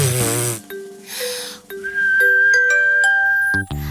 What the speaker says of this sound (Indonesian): Aku suka saat bersiul.